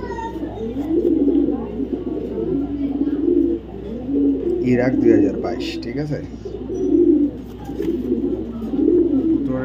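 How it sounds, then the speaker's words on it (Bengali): A young female racing pigeon, hatched in 2022, coos in repeated low rolling phrases at a pigeon farm, with someone talking over it throughout. "এটা মাদি কবুতর দাদা, এটা মাদি কবুতর"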